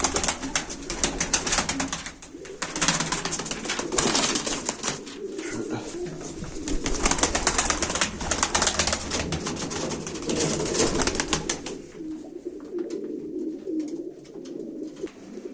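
Pigeons coo and rustle close by at a live pigeon auction, their calls repeating throughout with a dense, continuous flutter of noise that thins toward the end.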